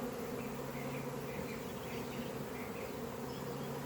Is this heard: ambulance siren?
no